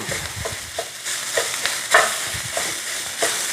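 Country sausage browns in a breakfast skillet, a soft crackling sizzle broken up by repeated scraping and stirring strokes from a utensil, close and moderately loud.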